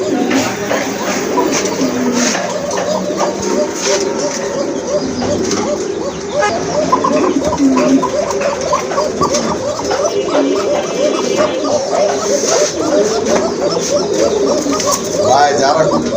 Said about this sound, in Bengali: এটা কোকাটা কিন্তু খুবই সুন্দর ডাকতেছে